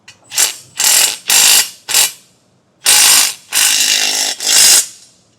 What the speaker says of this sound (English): we can tighten that down with a 1/2-inch socket